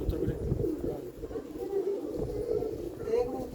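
Pigeons cooing at a loft among racing birds, low throaty calls repeating under steady background noise and nearby voices.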